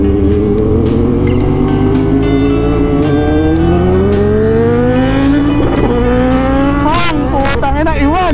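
BMW S1000R motorcycle riding, its engine a loud continuous drone that rises and falls in pitch through gear changes and revs near the end, with people talking over it throughout.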